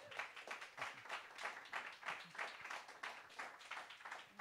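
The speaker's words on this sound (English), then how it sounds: "Give him a clap" Audience applause for a DJ at a DJ Mag panel event, a modest, steady patter of clapping with rhythmic pulses, moderately distant and fairly quiet, no talk over it.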